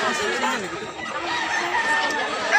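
Roosters crow at a rural poultry market in Mantalungon, Barili, Cebu, several overlapping calls amid chatter and clucking, with people talking nearby.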